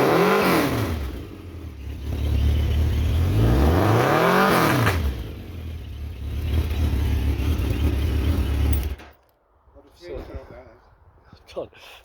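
A Suzuki GSX 1400 motorcycle with a big twin exhaust revs up twice in rising and falling sweeps, then holds a steady loud idle before cutting out abruptly, with speech nearby.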